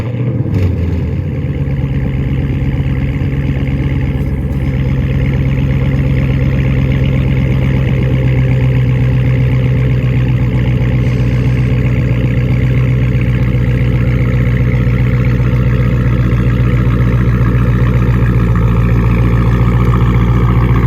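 A straight-piped Dodge Scat Pack idles after a remote start: a loud, steady, deep engine rumble that holds for about twenty seconds, with wind noise over it and no talk.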